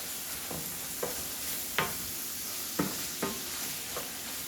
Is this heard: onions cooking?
yes